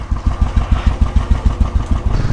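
A motorcycle engine chugs along on a ride through Kantkuna Chowk in Makawanpur, Nepal. It is loud and close, with a fast, even, pulsing exhaust beat and no talk.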